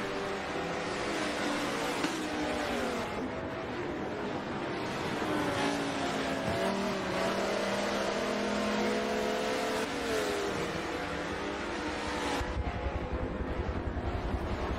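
Race cars including a yellow Dodge Viper and a Porsche GT car circling the Sebring circuit during a Blancpain GT America race, engines droning and shifting pitch continuously at moderate distance, with wind buffeting on the microphone.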